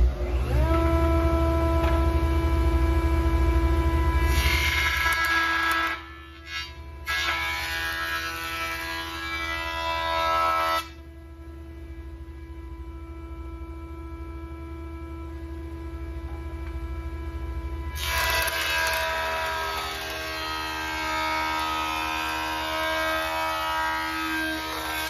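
A woodworking jointer runs with a steady motor drone and high-pitched whine, dropping briefly as a board is fed through and planed flat, then continuing with rougher cutting noise near the end.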